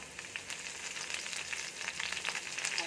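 Thinly sliced shallots and curry leaves fry in hot oil, a steady close sizzle with scattered crackles and pops that runs the whole time, alone and fairly soft.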